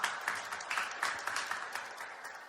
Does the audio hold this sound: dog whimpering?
no